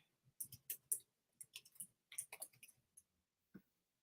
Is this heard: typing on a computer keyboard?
yes